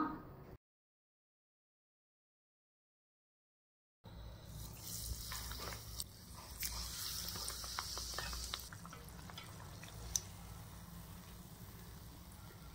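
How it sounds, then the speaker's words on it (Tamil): Bajji fritters sizzling in hot oil in a frying pan, a steady crackling hiss that follows a brief dead-silent gap, with a couple of sharper pops and spatters near the end. "ஃபர்ஸ்ட் நம்ம பிரிஞ்சோலில் பஜ்ஜி போட்டு பார்த்துடலாமா?"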